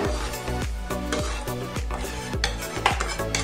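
A milk mixture, with about half a litre of milk just added, is stirred in a pot: rhythmic scraping strokes of a utensil against the pot repeat several times a second, close and continuous.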